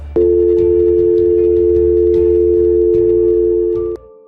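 A steady electronic phone tone hums continuously for about four seconds over a low rumble, then cuts off abruptly.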